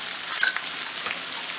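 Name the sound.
boiled potato pieces frying in a pan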